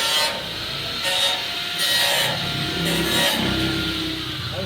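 Sandpaper being rubbed clean in a woodworking shop gives loud, rhythmic back-and-forth scraping strokes, about four passes, close up with no talking.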